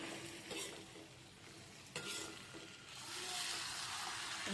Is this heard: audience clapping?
no